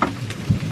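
Heavy rain pours down during a thunderstorm, with a low rumble of thunder rolling through, loud and close in a brief burst with no voices.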